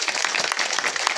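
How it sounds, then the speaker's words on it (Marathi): A devotional kirtan audience breaking into a brief burst of dense clapping applause, steady and close for about a second. "एकदा दिवटे महाराजांकरता एकदा जोरात टाळ्या वाजायच्या"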